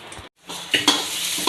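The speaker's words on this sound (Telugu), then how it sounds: "చనా పలుకులు వచ్చేసి సిమ్లో పెట్టుకొని వేస్తున్నాను." Roasted chana dal frying in a pan over a low flame for tomato chutney, giving a soft, steady sizzle with a few stirring scrapes and a brief gap near the start.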